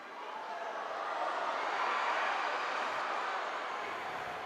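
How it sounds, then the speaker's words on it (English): Broad, steady crowd murmur swells through an indoor soccer arena, a dense wash of noise that rises slightly and holds at moderate distance without distinct voices. "Crowd buzzing at that attack there."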